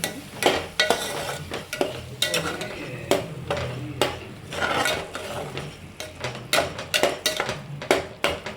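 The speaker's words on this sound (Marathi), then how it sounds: "मिक्स करून घेणार आहे." Mutton masala being stirred in a pan, with repeated scraping strokes of a spoon against the metal over a low sizzle, close and steady, with no voices.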